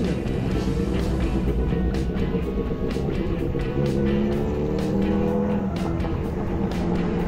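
Large trucks driving past close by on a road, a loud continuous rumbling engine roar that stays steady throughout with no talking.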